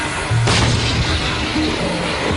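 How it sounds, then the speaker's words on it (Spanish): Tank cannon firing a projectile: a single sharp, loud boom that rolls into a low rumble, with no voices over it. "cuando el proyectil sale disparado hacia adelante, el arma se abalanza en dirección contraria con la fuerza de la explosión"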